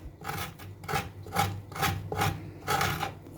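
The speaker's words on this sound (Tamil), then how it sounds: "உள்ளே உள்ள சதை எல்லாமே ரிமூவ் பண்ணியாச்சு" Drumstick pods being scraped by hand to remove the inner flesh for chutney, a series of rhythmic rasping strokes, about six, close and moderately loud with no talk.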